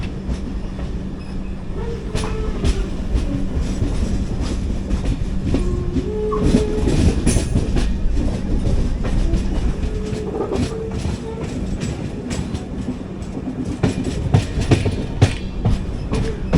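The 12618 Mangala Lakshadweep Express rolls into low-level platform 2 with a steady, loud rumble and rhythmic wheel clatter, brief squeals rising over the continuous noise, and no voices.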